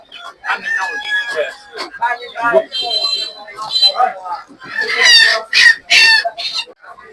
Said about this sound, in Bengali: এই খাসার ভিতরে দেশি মুরগি সোনালী মুরগি সব মুরগি আছে